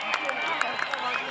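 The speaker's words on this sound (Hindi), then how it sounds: "फिर से एक बार तालियों की गड़गड़ाहट" A cricket crowd at a local premier league match in Mhasla claps in scattered, sharp bursts over a steady crowd murmur, the applause fairly close and lively.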